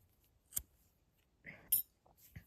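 Scissors snip through knitting yarn after the stitches are cast off, giving two or three short, crisp, quiet cuts spaced apart against near silence.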